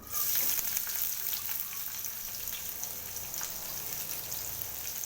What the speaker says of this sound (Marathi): आता बारीक चिरलेले दोन कांदे आहेत ते सुद्धा टाकूया